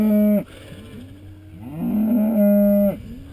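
Bog Eye cattle in a field give several loud, close moos one after another, each a long drawn-out low call with short pauses between.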